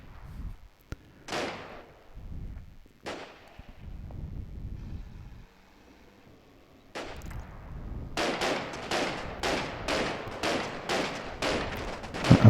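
Anti-aircraft guns fire at armour in a World War II wargame set on the road to Wiltz: scattered single booming shots first, then a fast run of sharp rhythmic bursts, loud and close.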